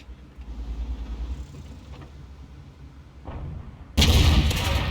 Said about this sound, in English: nice first shot on the Nashorn